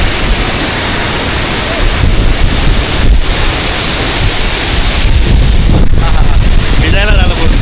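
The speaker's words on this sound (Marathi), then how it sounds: "बघताय ना उक्षी रानपाट वॉटरफॉल रत्नागिरी" Ukshi Ranpat waterfall near Ratnagiri pours in a loud, continuous broadband roar of rushing water, heard close with heavy wind buffeting the microphone throughout.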